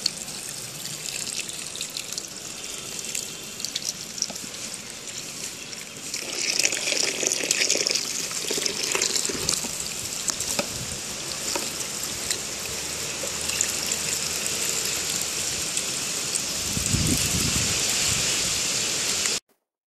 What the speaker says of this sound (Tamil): தண்ணி விட்டுக்கிட்டே இருக்கணும்.